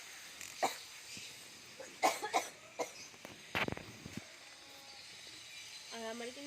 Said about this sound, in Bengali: আর আমার কিন্তু প্রচণ্ড কাশি হয়েছে